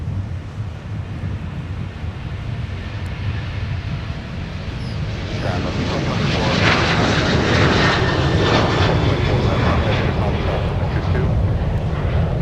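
A Delta Airbus A330 airliner takes off at Minneapolis–Saint Paul airport, its engine roar heard from a distance with wind noise, building steadily and growing louder through the second half.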